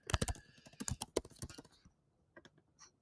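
Rapid clicks of a computer keyboard being typed on, a quick burst of close keystrokes followed by a pause and a few scattered final taps.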